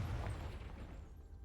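A Confringo blasting spell explodes in the video game Hogwarts Legacy: one loud, deep boom at the start that slowly fades into a low rumble.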